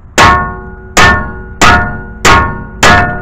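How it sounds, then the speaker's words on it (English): A hammer pounds a ball joint free on a 2007 Chevy Colorado: five loud, close metallic clangs at an even pace, each ringing briefly before the next blow. "you could actually use a Thor hammer, something that looks like this, and just pound this bad boy a couple pops, and that should free up"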